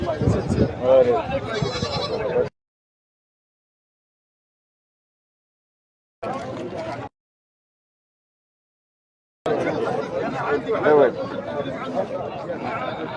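Goats bleating among sheep at a busy outdoor livestock market for sacrificial animals, the calls blending with nearby chatter and crowd talk in bursts separated by silent gaps.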